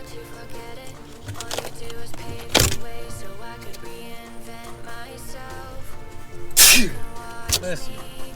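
Two sharp sneezes stand out amid clattering and thumps of work being done nearby, with a voice speaking in the background.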